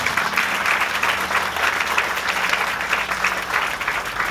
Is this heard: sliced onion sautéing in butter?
no